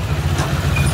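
A car engine rumbles steadily at close range, a low idling drone that holds even throughout the brief moment, with no voices over it.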